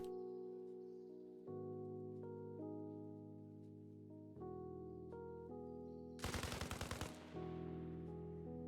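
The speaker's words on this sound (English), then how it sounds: "You can see bullets going everywhere." A short, rapid burst of automatic gunfire from a video game in development cuts in for under a second over a steady, droning musical tone.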